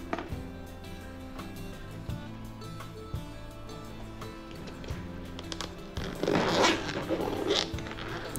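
Zipper on the small top pocket of a Viking Bags motorcycle sissy bar touring bag, pulled once near the end in a short, close, scratchy run after several quiet seconds with faint handling noises.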